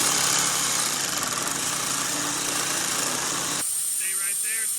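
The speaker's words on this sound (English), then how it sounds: "That's hands-free grinding right there, boys." Metal grinding during fabrication of a bigwheel vehicle, a loud steady whining roar that fills most of the clip and cuts off abruptly near the end, followed by quieter shop sounds and faint tones.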